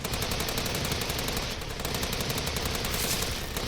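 Gunfire in Steins;Gate 0 during an alley showdown, sounding as a dense, continuous burst of shots and rattling reports that runs steadily throughout with no pauses.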